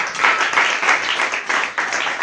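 A church congregation claps for Jesus in a sustained, loud burst of many hands, dense and continuous with a slight dip near the end.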